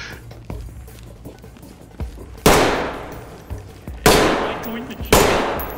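Gunfire in the tactical shooter game Ready or Not, with several sharp, loud single shots spaced about a second apart over quieter background noise.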